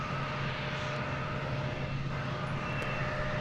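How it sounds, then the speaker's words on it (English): A steady, loud drone from an American Airlines jet in the America West Heritage livery at Dallas/Fort Worth airport, continuous and close throughout with no talk over it. "This is the new American Airlines America West Heritage livery, a newly repainted plane."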